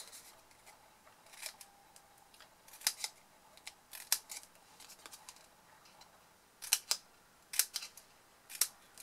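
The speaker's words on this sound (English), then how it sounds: "just cut on the little four corners" Scissors snip little wedges from the four corners of paper to form craft tabs for a Ferrero favour, giving scattered sharp, crisp cuts in short clusters against a quiet room, with no talking.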